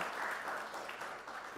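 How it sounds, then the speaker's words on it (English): An audience at the Circular Economy launch in Nairobi applauds as a speaker comes on stage, a brief, soft wash of clapping that sounds distant and fairly even. "Let's give a round of applause as he comes on stage"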